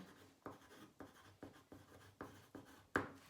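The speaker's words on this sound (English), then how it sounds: "I'm going to write lady in a garden." A pen writes on paper in quick, faint strokes about every half second, each a soft close scratch, ending with a slightly firmer mark.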